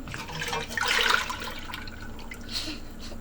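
Water from a can splashes into a cooking pot holding crushed tomatoes for meatball gravy, a short close gush that swells and then fades into a trickle.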